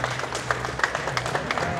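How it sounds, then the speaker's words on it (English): A crowd at an electric car show claps as an MG4 is unveiled at Fully Charged Live Australia 2023, giving brief, dense, moderately loud applause with scattered individual claps. "Rapturous applause from the crowd."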